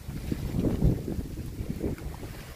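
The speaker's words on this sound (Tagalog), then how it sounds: "Malakas ang hangin mga kalayp." Strong typhoon wind buffeting the microphone in low, rumbling gusts, loud and close, rising and falling with no voices.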